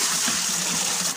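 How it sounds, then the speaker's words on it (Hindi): Water gushes steadily into a vessel on a freezing night, a close, continuous hissing pour with no pauses. "अभी मैं इस बर्तन में पानी भरूंगा पहले"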